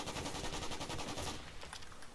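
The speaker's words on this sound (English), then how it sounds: "Sniper rifle." Rapid volley of rifle fire in a shooter video game, a dense run of sharp, evenly spaced cracks for over a second, then a sparser tail of fainter shots.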